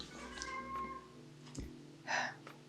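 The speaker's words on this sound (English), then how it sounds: "There's my cat." A domestic cat meows once, briefly, near the end, fairly close and clear over a quiet indoor room with a faint steady hum.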